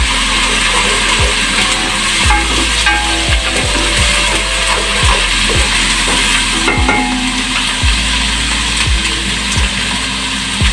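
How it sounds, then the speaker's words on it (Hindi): Onions fry with garlic and ginger in a pan under a continuous loud sizzle, while a spoon scrapes and stirs in regular repeated strokes close by. "अच्छे से इसकी भुनाई करेंगे लहसुन अदरक के साथ।"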